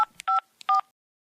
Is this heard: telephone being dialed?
yes